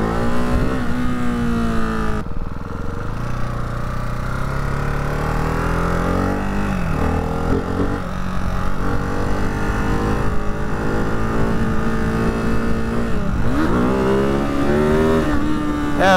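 A Ducati Hypermotard 698 Mono RVE single-cylinder motorcycle revs and accelerates hard during wheelie practice runs, its engine note climbing and falling through loud, sustained throttle bursts with a brief drop in pitch midway.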